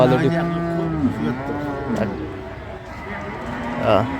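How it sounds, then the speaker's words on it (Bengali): Several cows low at the Ambari cattle market in Dinajpur, where dairy cows and calves are sold, the long deep moos rising and falling close by over steady crowd chatter and voices of people talking nearby. "বেশ সুন্দর গাভী বাছুর আমরা দেখছিলাম"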